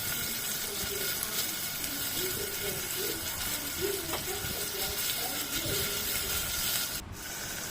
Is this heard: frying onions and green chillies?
yes